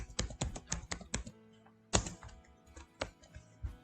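Quick bursts of keystrokes on a computer keyboard, crisp close taps in a fast run, then a pause and a few more scattered presses, with no talking.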